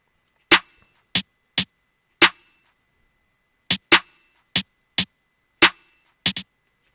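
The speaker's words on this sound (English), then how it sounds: "we dropped the velocity on that one, so it sounds like it's like a snare flam" Snare hits from an FL Studio trap beat, some flammed at lowered velocity, land as sharp separate cracks in a loose rhythm with gaps between groups and no one talking.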